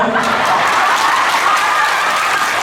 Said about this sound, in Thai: ขอเสียงปรบมือครับผม